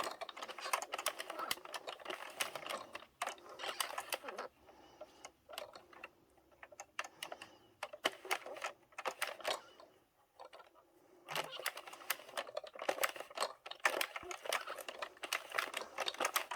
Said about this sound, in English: I struggle a little bit more on my Sentro machine. Now we're doing the opposite on this row.